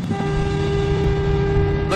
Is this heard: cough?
no